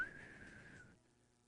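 A single person's whistled tone, faint and brief, lasting under a second before fading into quiet room tone.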